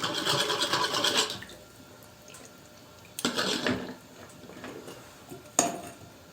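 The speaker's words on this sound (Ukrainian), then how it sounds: "Перемішую це все." Spoon scraping and stirring a ketchup and mayonnaise sauce in a bowl, three bursts of scraping separated by quieter pauses, close by.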